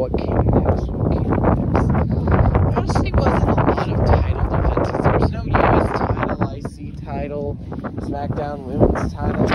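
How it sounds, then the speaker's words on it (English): Strong night wind buffets an outdoor microphone with rough, fluctuating rumbles under a person talking almost continuously. "Ooh, it's windy out tonight."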